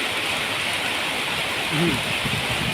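Rain pours down steadily in a wet season downpour, a continuous even hiss close around the listener with no breaks, and a faint low voice briefly murmurs beneath it.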